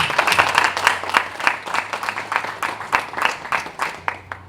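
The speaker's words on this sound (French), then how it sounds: "Est-ce qu'on peut déjà applaudir très fort pour l'artiste?" Audience applause for an artist at a press conference for a new album launch, a dense burst of many hands clapping steadily in a room, continuous and fairly loud with no talk over it.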